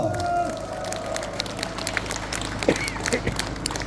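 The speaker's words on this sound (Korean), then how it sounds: "시장 상인 여러분 장사 잘 되시라고 여러분들 큰 격려의 박수 한번 보내주시기 바라겠습니다." A crowd at an outdoor market applauds the market merchants during a campaign rally, scattered claps and cheers that build after a fading tone, with some voices faintly underneath.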